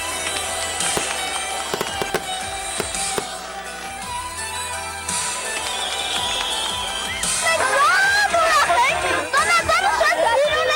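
Fireworks burst repeatedly at a Christmas tree lighting in Akhuryan, loud cracks and booms over a murmuring crowd, with whistling rockets rising and popping toward the end.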